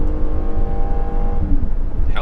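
A 2021 Toyota Highlander XSE with a 3.5-liter V6 revs up under light throttle, a steady low engine drone rising slightly, heard from inside the cabin for a couple of seconds.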